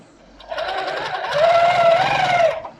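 A domestic sewing machine quilting a T-shirt quilt runs in one continuous whirring burst of about two seconds, rising in pitch midway, loud and close.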